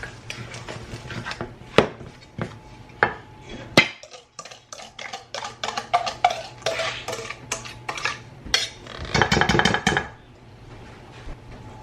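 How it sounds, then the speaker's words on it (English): A utensil stirs batter made with vinegar and milk in a bowl, scraping and clinking against the sides in irregular bursts, close and fairly loud, with a brief quiet pause partway through and no talking. "And we're going to stir this all together."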